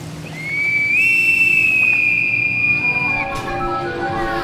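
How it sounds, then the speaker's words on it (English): A shrill, steady bosun's pipe whistle holds one high note for a couple of seconds, then breaks off into shorter warbling tones over a faint background hum. "Then we hear a whistle like a bosun's pipe."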